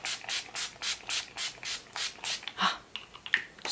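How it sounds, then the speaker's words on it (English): Repeated pumps of Clinique Moisture Surge setting spray misting onto a face, a steady series of soft hissing bursts with no talking. "we have to finish with some setting spray, so I go with the Clinique Moisture Surge."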